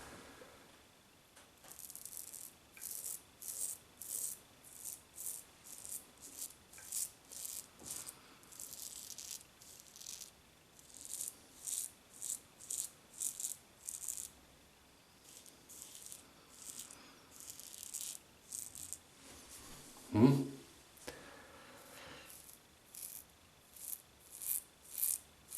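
A Lord double-edge safety razor scraping through a lather of Figaro shaving soap, close and crisp, in repeated short strokes with brief pauses, rasping steadily and alone.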